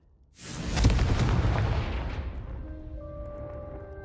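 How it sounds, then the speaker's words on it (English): A Confringo fire spell cast in Hogwarts Legacy lands with a deep booming blast, followed by a long fading rumble and a faint rising magical tone. "a Confringo cast travels a bit farther than that of a spell like Incendio"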